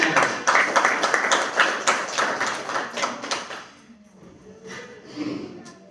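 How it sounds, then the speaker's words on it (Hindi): Audience applause at a New Year program, a burst of rhythmic clapping from a crowd that fades after a few seconds, followed by a quieter stretch with some talk. "जोरदार ताली बीच में।"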